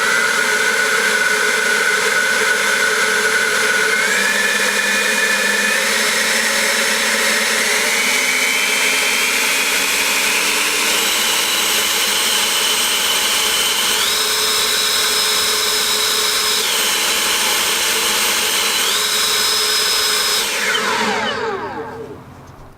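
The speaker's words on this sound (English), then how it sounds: "let's take a look and check the test that I ran to find out just how noisy this leaf blower is" EGO Power+ LB6504 180 mph 650 CFM electric leaf blower running during a noise test, a loud steady whine whose pitch steps up and down through speed changes before winding down at the end.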